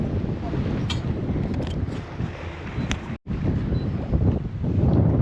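Steady wind roars across the microphone aboard a sailboat at sea, a broad rushing noise with gusts, briefly cutting out midway.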